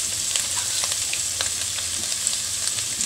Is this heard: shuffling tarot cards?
no